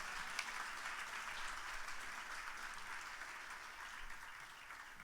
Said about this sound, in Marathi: या सर्व गुणी कलावंतांचं एकदा जोरदार टाळ्या वाजवून आपण अभिनंदन करूया